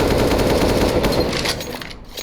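An AK rifle fires on full auto in Counter-Strike: Global Offensive, a rapid, dense burst of shots lasting about two seconds before it tails off.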